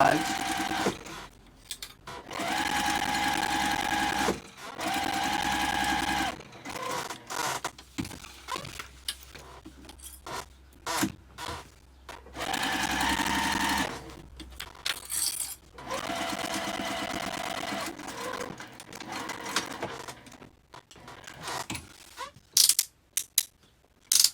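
Sewing machine basting seams on a tote bag, running in several steady bursts of a few seconds each with pauses between them, and a person talks in the gaps.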